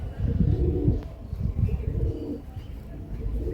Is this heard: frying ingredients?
no